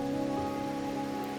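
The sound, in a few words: rain in Wuthering Waves video game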